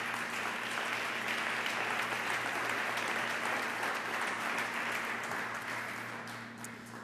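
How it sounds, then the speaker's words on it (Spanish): Sustained applause fills a church service as a congregation claps for the Lord, a dense, continuous patter that stays steady for several seconds before easing slightly at the end, with a low hum underneath. "Dale un fuerte aplauso al Señor"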